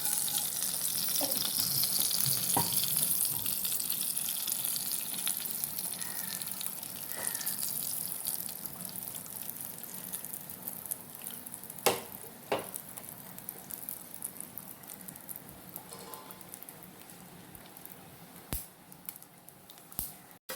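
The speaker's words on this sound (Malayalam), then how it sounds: "നമുക്ക് കടുക് പൊട്ടിയുണ്ട്" Mustard seeds splutter in hot coconut oil in a pan, a steady close frying hiss scattered with sharp pops and crackles that thin out toward the end, with no talking.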